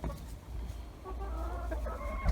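Chickens cluck nearby in short, throaty bursts, a few birds murmuring and chattering together with no voices over them.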